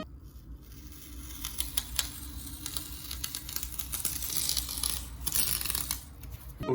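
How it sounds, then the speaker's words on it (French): Masking tape is slowly peeled off a wall with a dry crackling rip, punctuated by small ticks and snaps, fairly quiet and close. "Il faut qu'on retire les scotch."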